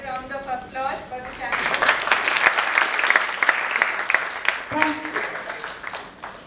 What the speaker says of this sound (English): Could we have another round of applause for them